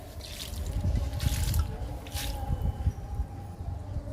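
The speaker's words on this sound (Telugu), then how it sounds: "ఈ మొక్క కూడా ఇస్తున్నాను లిక్విడ్." Liquid fertilizer is poured onto an indoor plant, giving close, soft dripping and trickling with wet splashes in the soil, fairly quiet and without speech.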